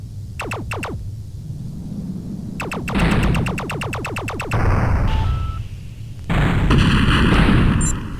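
Laser gunfire in the 3DO game Shock Wave: rapid bursts of sharp zapping shots, a short volley followed by a longer rapid string, then heavier blasts and explosion-like rumbles, loud and without talk.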